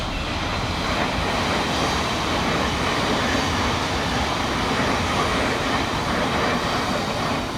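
A Thameslink Class 700 electric train rounds the corner at New Cross Gate station, giving a steady, loud, continuous rolling rumble and wheel roar that stays even throughout with no voices.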